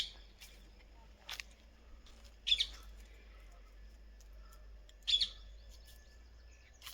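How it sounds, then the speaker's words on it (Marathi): Parrots call from trees above a fig, guava and sapota orchard in Velu village, two brief, faint, distant squawks a few seconds apart over quiet outdoor background. "भरपूर पोपट आहेत वरती झाडा."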